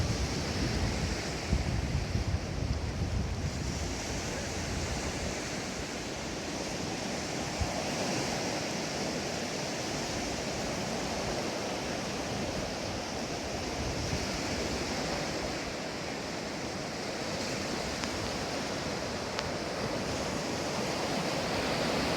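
Waves wash steadily onto the beach at Sprey Point in Teignmouth, a continuous broad surf roar mixed with wind buffeting the microphone, with no voices over it.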